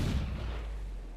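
A single heavy ship cannon blast from the pirate naval combat game Assassin's Creed Black Flag, a deep booming report that decays into a low rumble, with no talk over it.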